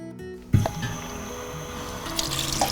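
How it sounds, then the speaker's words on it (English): Water is poured into a glass jar for a homemade glitter jar: a sudden splashy start, then a steady close-up trickle with small gurgles and drips. "put a bit more water in so it comes up to the top"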